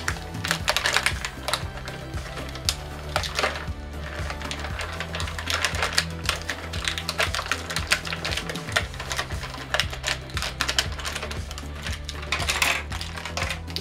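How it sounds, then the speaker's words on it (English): A He-Man Masters of the Universe Origins action figure freed from its plastic blister packaging, with a dense run of close crinkling, tapping and clicking plastic, and small parts rattling loose, continuous and fairly loud with no talk. "let's get He-Man out of the packaging"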